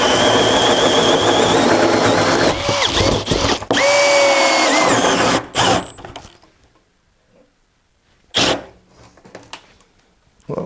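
A battery-powered cordless drill whirs loudly through a series of holes, each burst rising and stopping abruptly, then quieter pauses with a few shorter spins near the end.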